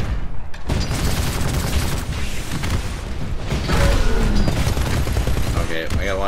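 Rockets and heavy weapons fire in the video game Titanfall, a dense, continuous barrage of booms and blasts with mechanical clatter throughout, loud and close.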